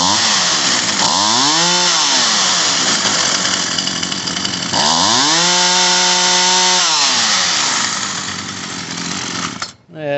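A Poulan Pro 222 38cc chainsaw engine runs loudly and close, revving up and down in two long sweeps before cutting off abruptly at the end.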